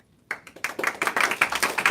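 A small group starts clapping after a brief silence, quick irregular claps building into steady applause, close and fairly loud.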